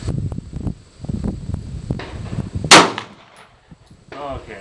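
One sharp, close crack from a World War II-era 9mm gun fired outdoors, with wind noise and faint rustling before and after the single shot.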